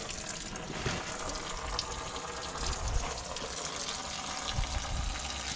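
Water runs steadily through outboard-motor flushing earmuffs on a skiff, giving a close, continuous gushing hiss with small splashes and no talking.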